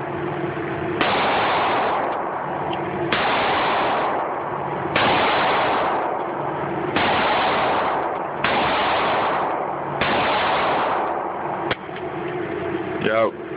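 A Sig Sauer SP2022 9mm pistol fires six loud, evenly spaced shots about two seconds apart, each a hard crack followed by a long, echoing tail.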